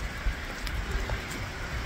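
Rain and wind outdoors in a snowy hunting area, a dense steady patter of raindrops with a low rushing undertone, close and even throughout, no talk.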